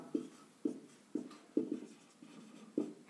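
Pen strokes on paper while solving a class 10 math problem, six short scratchy marks at a steady rhythm roughly every half second, close and quiet, with no talk.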